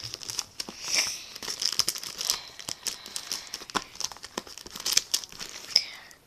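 Crinkling and tearing of plastic wrapping, a steady run of close, irregular crackles and rips with no talking.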